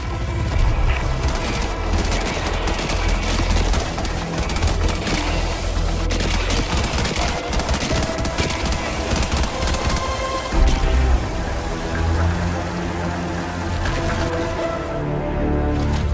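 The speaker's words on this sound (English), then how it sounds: "Engaging orbital laser." Orbital laser strike in Helldivers 2 roars as a dense, continuous barrage of crackling blasts and rumbling booms, loud and sustained throughout with no pauses.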